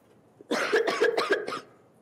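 A string of four or five harsh coughs in quick succession during a middle school stage play, fairly close and clear, trailing off into quiet.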